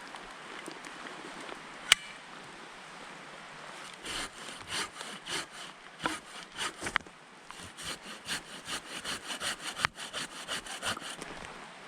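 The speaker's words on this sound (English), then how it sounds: "So maybe I'll saw into it a bit" A Silky hand saw cuts into dry firewood outdoors, a close, rhythmic series of rasping strokes that starts after a sharp knock and continues steadily with brief pauses.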